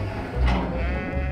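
A sheep bleats loudly and close by in a pen on a farm during veterinary handling, one drawn-out wavering call over a steady background.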